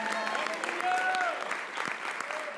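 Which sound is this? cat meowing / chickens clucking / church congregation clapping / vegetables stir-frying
church congregation clapping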